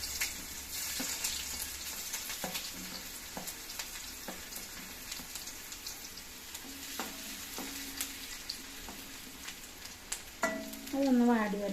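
Ginger frying in a pan gives a soft, continuous sizzle with scattered pops and crackles, close but fairly quiet, flaring briefly louder near the end.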